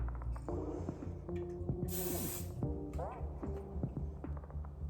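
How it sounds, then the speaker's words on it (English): Medium hold hairspray sprayed onto hair produces one short hissing burst of about a second near the middle, set against a low hum and scattered mechanical tones. "I'm gonna take a medium hold hairspray and just shape those pieces out"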